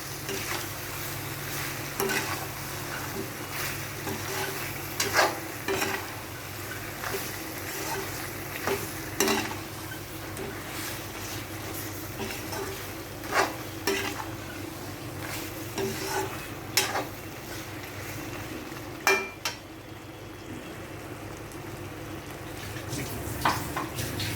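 Cashew and almond paste, made from twelve of each, fries and is stirred in a pan for chicken Mughlai, giving a steady close sizzle broken by repeated scraping spoon strokes.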